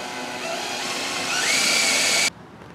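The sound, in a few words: drilling bolt holes for livewell vent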